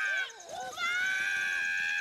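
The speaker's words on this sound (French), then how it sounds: "J'ai encore jamais entendu un perroquet crier comme ça." A parrot in a cartoon lets out shrill, wavering screams, a harsh high-pitched call that bends and swoops before settling into a sustained piercing cry.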